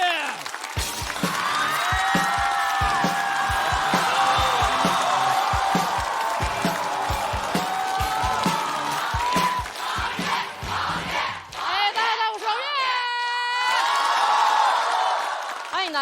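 A stand-up comedy audience roars with loud sustained applause, cheers and whoops as a comedian is welcomed onstage, a dense crowd din that fades near the end into a short musical sting.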